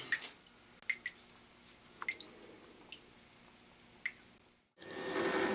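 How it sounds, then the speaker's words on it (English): A few scattered drips and squishy wet touches on a pitch lap for polishing a telescope mirror give way to a sudden steady rush of rinsing water near the end. "And then I just take a rinse and this pitch lap is now ready to go."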